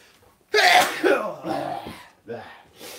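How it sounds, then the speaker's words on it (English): A single loud human sneeze bursts out near the mic, followed by a couple of softer breathy aftershocks and sniffs. "I'm going to sneeze."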